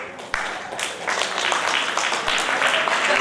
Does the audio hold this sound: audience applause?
yes